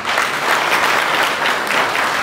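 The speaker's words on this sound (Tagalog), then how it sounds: "Palakpak" Steady, fairly loud applause from a crowd at a tenth-anniversary celebration, many hands clapping in a continuous dense patter for a couple of seconds.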